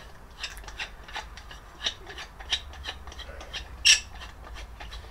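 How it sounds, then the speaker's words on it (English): Bolt being loosened at the bottom of a Yamaha Tenere 700 front fork leg during a RallyRaid cartridge kit install: quiet, scattered metallic ticks and small ratchet-like clicks with one sharper clack near the end, close by and without talk. "So we start off by removing the bolt here in the bottom."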